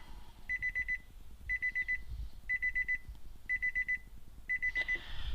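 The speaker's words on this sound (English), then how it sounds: "Let's shut the door so we don't hear all the beeping." A car's door-open warning chime beeps in quick bursts of about five tones, repeating steadily about once a second at moderate loudness over a low engine-like rumble, on a flood-damaged vehicle being worked on.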